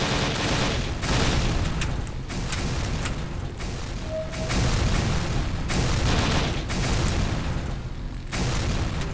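Explosions and bursts of gunfire from a military shooter video game fill the clip with repeated loud booms and crackling volleys, dense and continuous with brief lulls between blasts.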